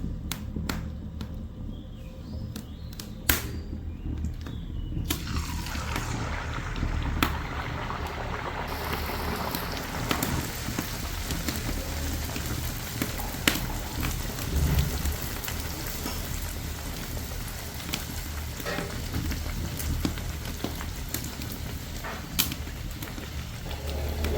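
Nei pathiri frying in hot oil sends up a dense, steady crackling sizzle, like heavy rain, that runs loud and unbroken from start to finish.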